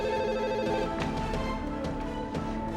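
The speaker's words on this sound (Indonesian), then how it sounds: "Pasti Fahri dia telepon" A telephone rings in a home setting during a drama scene, a steady electronic ring with tonal harmonics continuing through the whole stretch, fairly loud and alone without talk.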